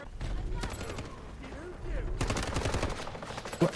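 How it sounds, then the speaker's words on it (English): Gunfire in the shooter game Delta Force, an AUG rifle loadout: scattered shots early, then a busier burst of rapid firing in the second half, moderately loud with background game noise and some voice. "Who's shooting?"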